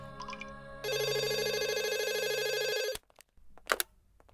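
A telephone rings with a steady electronic trill for a couple of seconds, then stops, followed by faint clicks and rustling.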